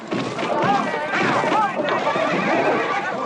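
A bucking bronco horse on a ranch lets out loud, shrill, wavering neighs over a constant rough background of hooves, movement and scuffling, up close and filling the whole short stretch.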